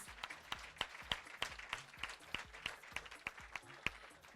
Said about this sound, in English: You can give a round of applause to our winners.